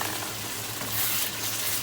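Chopped hot green chillies sizzle and fry steadily in oil in a pan while cooking karela gosht, a continuous close crackling hiss with no voices.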